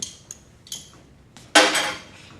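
A few light metallic clinks and ticks come from a regulator being tightened onto an acetylene bottle, followed by a sharp, louder metal clank with a short ringing decay.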